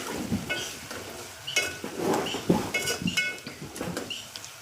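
Ginger frying in oil in a pan for an ivy gourd curry in a village kitchen, a soft steady sizzle with repeated clinks and scrapes of a spoon stirring against the pot.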